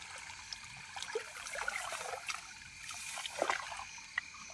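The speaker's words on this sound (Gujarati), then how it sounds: "અત્યારે ઘઉંમાં પાણી ચાલુ છે." Irrigation water flowing into a wheat field, a soft continuous trickle and babble at moderate distance, with a few brief splashy bursts and no talking.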